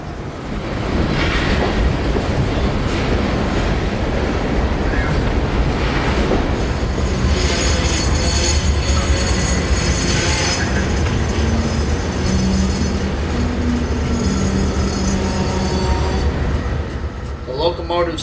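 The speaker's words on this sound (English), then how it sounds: "the train is on its way back into the yard, but will have to be broken up into at least another piece" Freight train hauled by AC4400 locomotives rolls into a rail yard on the Palmetto Subdivision, a steady loud rumble of wagons and wheels with clattering and occasional squeals throughout, fading near the end.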